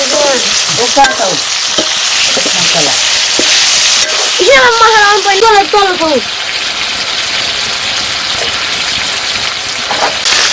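Pork sizzles and crackles loudly in a pan with chilli and spices, stirred with a steady scraping rhythm throughout, while a person talks over the cooking.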